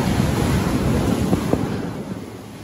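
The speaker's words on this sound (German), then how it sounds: "Die Wellen zischen unter den Rümpfen hindurch." Waves hiss and slosh under the hulls of a catamaran anchored in a secluded bay, a close, steady rush of water with wind buffeting and a couple of sharper splashes.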